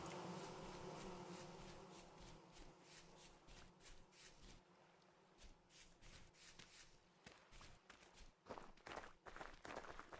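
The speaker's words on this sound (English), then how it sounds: "Gotta love bees in redwoods." Bees buzz faintly among redwood trees in the Vintage Story video game, a thin insect drone mixed with rustling footstep sounds.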